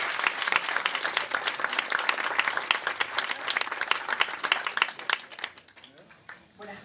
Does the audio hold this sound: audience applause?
yes